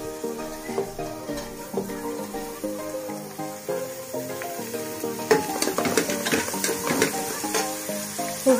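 Capsicum frying in a hot pan, a steady sizzle broken by the scrape and clatter of a spoon stirring, growing busier and louder toward the end.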